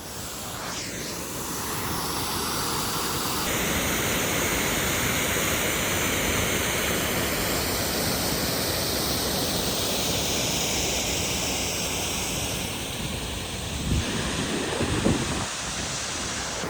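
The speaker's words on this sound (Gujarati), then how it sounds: "આ વિપે ઝડથી પાણી આવે છે" Continuous fast-rushing water in a forest with a broad roar, buffeted by wind on the microphone; a few brief bumps and handling noises near the end.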